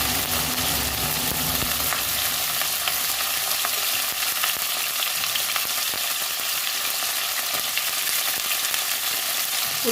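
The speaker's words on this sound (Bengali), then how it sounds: "তার জন্যে আমি ভেজে নেবো ফুলকপিগুলো" Steady, dense sizzling of cauliflower frying in hot oil, continuous and close throughout with faint clinks and stirring noises.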